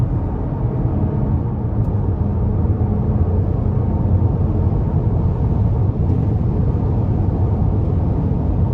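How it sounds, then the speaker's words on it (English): A 2021 Buick Envision Preferred with a 2.0 engine accelerates under throttle, giving a steady, loud low rumble of engine and road noise inside the cabin with no speech. "Gonna give it a little throttle here"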